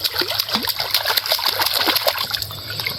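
People bathing and splashing into water, rapid close splashes and sloshing with trickling in between, fairly loud and busy, easing slightly at the end.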